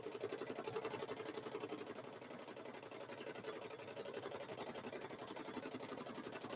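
A sewing machine stitching a Grinch-themed quilted handbag, running in a fast, continuous mechanical whir with a steady stitching rhythm, fairly faint and close, with no speech.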